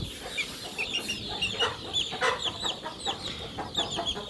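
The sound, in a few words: chicken chick clucking while being weighed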